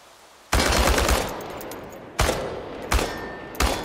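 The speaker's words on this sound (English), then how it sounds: "Commence firing." An automatic weapon in the post-apocalyptic survival game Chernobylite fires at cans: one long sustained burst, then three short bursts in quick succession, loud and close with no talk.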